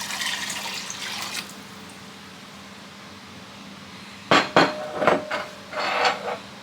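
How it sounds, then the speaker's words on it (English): Distilled water pours steadily into a pot of elderberries for a couple of seconds, followed by several sharp clinks and knocks of cookware close by. "we're going to add 4 cups of distilled water"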